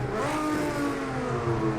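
Simulated race car in Project CARS 2 on the Le Mans circuit heading toward Indianapolis, engine droning steadily and loudly with shifting harmonic tones as it changes gear, close and continuous with no talk.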